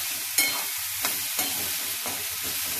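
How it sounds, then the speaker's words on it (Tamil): Ivy gourd sautéed with salt in a pan hisses steadily up close, with a few quick stirring scrapes over low background music. "நல்லா வதங்கணும்"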